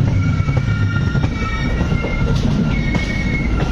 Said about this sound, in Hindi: ट्रेन जो है समस्तीपुर जंक्शन स्किपिंग कर रही है